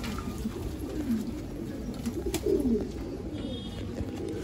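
Pigeons coo softly in a rooftop loft housing around 130 birds, low murmuring calls rising and falling under steady background hum, with a brief spoken word.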